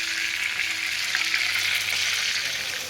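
Chicken pieces frying one by one in hot oil for Kuzhimandi, a continuous dense sizzle and crackle held close and even for a few seconds, no voices over it.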